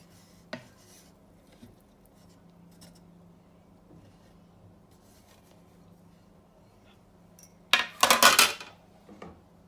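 Chicken seasoned with red chili powder and an Italian herb mix is stirred in a bowl. After a long quiet stretch, a short burst of scraping and clinking of a utensil against the bowl comes near the end.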